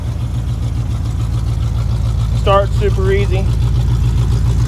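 A Chevrolet Suburban engine idles with a steady, loud, close rhythmic chug, running slightly high, while a person speaks briefly over it.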